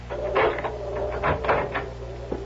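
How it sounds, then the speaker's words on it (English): A house's main door is handled in a 1970s radio mystery drama, heard as several close wooden knocks, latch clicks and creaks spread over a couple of seconds, with no voices. "she is just about to let herself out the main door of the house when"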